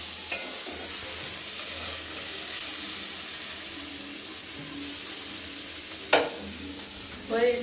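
Fenugreek greens (methi shak) frying in a pan, a soft continuous sizzle with occasional stirring scrapes and a sharp clink near the end, fairly quiet and steady.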